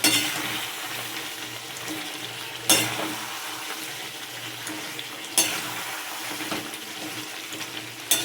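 Masala spices sizzle and fry in oil for khichuri, a steady close crackle with occasional louder scrapes or clatters of a utensil in the pan, no talk.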